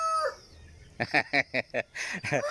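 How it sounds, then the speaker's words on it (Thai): A fighting cock crows near the start, then clucks in a quick run of short bursts, close and fairly loud, with no talking. "อันนี้เลี้ยงไก่ครับ ไก่ตีนะครับเด้อ"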